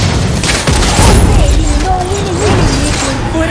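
Tower being destroyed in Mobile Legends: Bang Bang, with loud booming blasts and crashing impacts layered over game music and a voiced announcement throughout.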